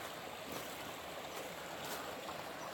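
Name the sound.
creek water flowing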